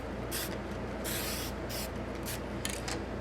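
Testors Dull Coat sealant hisses from an aerosol can onto a Revell 1:72 Type VII C U-boat model kit in several short bursts, each a soft close spray over faint background noise.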